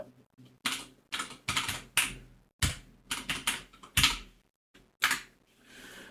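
Code is typed on a computer keyboard in uneven bursts of close, crisp keystrokes separated by short pauses over several seconds, with no voices.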